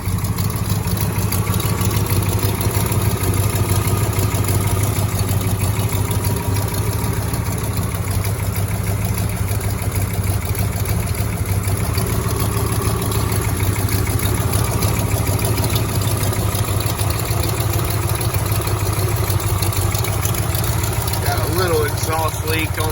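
A 1966 Dodge Charger with a factory 426 HEMI V8 idles steadily with a deep, continuous rumble and a slight exhaust leak, close by, as someone talks over it.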